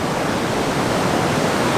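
Rushing rapids of the Murray River at Dwellingup pour over rocky outcrops in a loud, dense, continuous roar of white water heard up close, with no voices.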